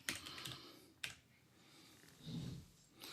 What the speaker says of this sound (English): I can just type it